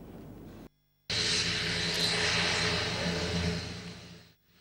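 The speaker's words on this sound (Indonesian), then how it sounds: "Dengan menggunakan pesawat TNI CN-295, Presiden Joko Widodo tiba di Bandara Rembele Bener Meriah" TNI CN-295 military turboprop aircraft arriving at Rembele airport in Bener Meriah, Aceh, a loud, broad roar of engines that cuts out briefly then swells steadily before fading away.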